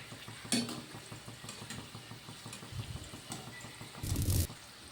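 Palm fruit fritters (taler bora) deep-frying in oil, a soft steady bubbling sizzle with a few louder stirring and utensil clatters, no talk.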